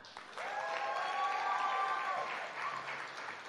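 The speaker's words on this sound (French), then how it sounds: "On peut les applaudir encore." An audience at a gala award ceremony applauds steadily, a dense wash of clapping that swells in quickly, holds loud for a few seconds and then begins to thin out.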